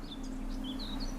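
Faint high birdsong chirps in a peaceful outdoor scene in The Witcher 3 video game, several thin tweets repeating over a soft steady ambient hum.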